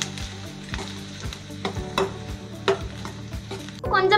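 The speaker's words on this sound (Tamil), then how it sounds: "சேர்த்துட்டு நல்லா வதக்கி விட்டுக்கோங்க. வெங்காயம் நல்லா பொன்னிறமாக வதங்கணும்." Onions sautéing and stirred in a pan for chicken chukka varuval, a steady sizzle broken by repeated scraping strokes of a spoon, ending in a louder burst of crackling.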